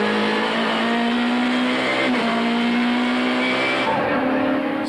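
1998 touring cars racing at Killarney circuit, engines roaring loud and continuous as the pack sweeps past, with a steady droning whine and a brief dip and swell near the end.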